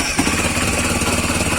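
A Honda CB300 motorcycle engine runs steadily after a repair, a loud, close, even idle with a continuous rhythmic mechanical chug and no talking.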